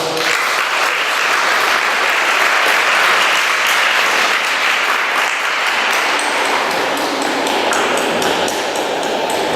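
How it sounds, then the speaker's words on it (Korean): Congregation applause fills a church during Sunday worship after a prayer, a dense steady clapping that holds loud throughout and eases slightly toward the end. "다시 한번 박수로"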